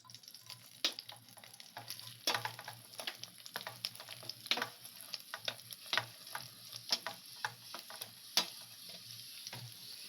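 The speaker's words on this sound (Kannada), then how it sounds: "ನಾನು ಈರುಳ್ಳಿ ಹಸಿಮೆಣಸಿನ್ಕಾಯಿ ಹಾಕೊಂಡಿದ್ದೀನಿ ಇವಾಗ ನಾನು ಅದನ್ನ ಎಣ್ಣೆಲಿ ಚೆನ್ನಾಗಿ ಫ್ರೈ ಮಾಡ್ಕೊತಾ ಇದ್ದೀನಿ" Onions and green chillies frying in oil in a pan for egg rice: a continuous low sizzle broken by frequent sharp spatula scrapes and clicks in an uneven rhythm, close up, with no one talking.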